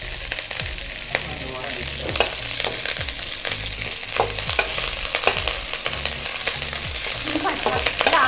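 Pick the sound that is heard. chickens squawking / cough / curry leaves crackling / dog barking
curry leaves crackling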